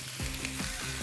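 Marinated sirloin beef, lean meat with a layer of fat, sizzles loudly in a very hot wok, a steady close frying hiss with a few swells as the meat settles.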